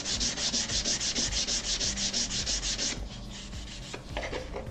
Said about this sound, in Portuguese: Fazer esse acabamento com a lixinha fina.